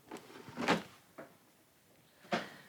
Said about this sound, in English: He's gonna go into this drawer.